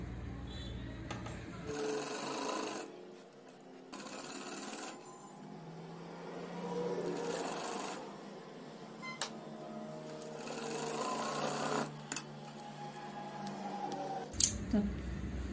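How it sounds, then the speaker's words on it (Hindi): A sewing machine stitches a lehenga dress in several close bursts of rapid mechanical whirring, with quiet pauses, small clicks and handling between runs. "अब हमें ऐसे इसको स्टिचिंग करनी है"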